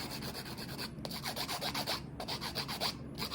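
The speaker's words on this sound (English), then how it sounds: "I'm going to take my nail file and I'm just going to go back and forth on it" A nail file is worked back and forth on a plastic practice fake nail, making close, rhythmic rasping strokes with short pauses between bursts and no talking.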